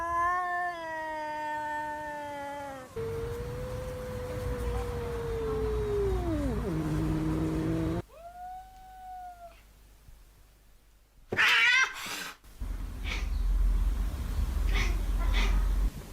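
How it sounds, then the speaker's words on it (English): Domestic cat vocalisations in several separate bursts: long drawn-out meows and wavering caterwauls, some sliding down in pitch, then a harsh yowl and shorter calls, loud and close with no talking. "I've also studied the vocal communication of domestic cats"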